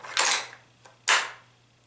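A rifle bolt is worked on resized, small-base-sized Lake City brass, giving two sharp metallic clacks about a second apart with a faint click between them, close and clear.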